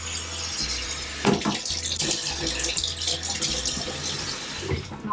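A Levoit humidifier is rinsed under a running tap: a constant rush of close water flow, broken by a few splashes and clunks as the part shifts under the stream.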